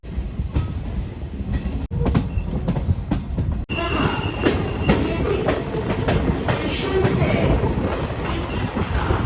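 A local train running on the Sealdah to Gede line, rumbling steadily with rhythmic wheel clatter close by, with brief sharp breaks in the sound and faint voices in the background.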